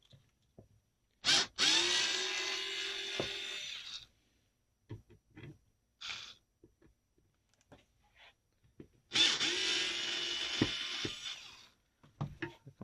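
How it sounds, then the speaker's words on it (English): A small Mastercraft electric screwdriver backing out the screws of a plain wooden stock on a French Sidna M22M3 .22 rifle: two long whirring runs several seconds apart, with quiet clicks and handling knocks between them. "I'm going to use the electric screwdriver for this"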